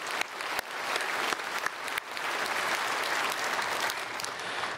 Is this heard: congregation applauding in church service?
yes